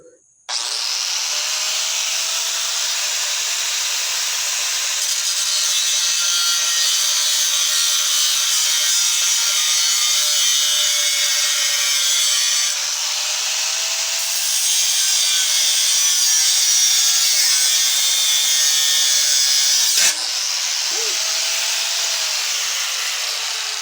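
A cutting blade grinds steadily through pieces of a fan motor, a loud, continuous high-pitched whine lasting the whole stretch, with brief dips where the blade lifts off the metal.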